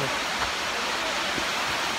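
Steady roar of a waterfall at a risky cliffside lookout, a dense unbroken wash of falling water filling the whole clip at even loudness, with no other sounds standing out.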